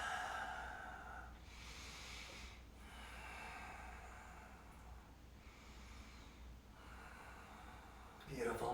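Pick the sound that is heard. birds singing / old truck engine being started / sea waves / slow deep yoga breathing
slow deep yoga breathing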